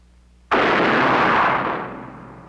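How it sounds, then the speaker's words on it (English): A number 4 charge blows apart a chemical flask behind a laboratory safety shield, heard as one sudden loud blast that rings on as a broad roar before fading. "this same event shows more clearly the violence of the number 4 charge explosion"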